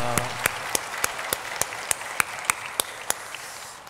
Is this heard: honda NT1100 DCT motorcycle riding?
no